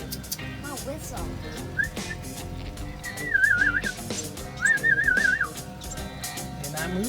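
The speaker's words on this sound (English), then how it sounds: "My whistle." A person whistles two short warbling trilled phrases near the microphone, loud and clear over a faint background hum, with speech nearby.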